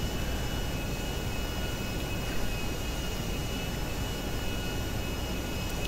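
A plane in Grand Theft Auto V climbing after takeoff with its landing gear up, giving a steady, dense engine drone with a faint high whine, continuous and unbroken throughout.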